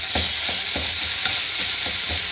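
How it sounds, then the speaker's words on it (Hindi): Cream being stirred into chicken in a hot pan, a loud steady sizzle with about eight evenly spaced scraping strokes of a spoon, close and alone with no voices. "तकरीबन 1 टेबलस्पून क्रीम है, ये डाल के स्लाइटली मिक्स करके हम इसको बंद कर देंगे चूल्हे को"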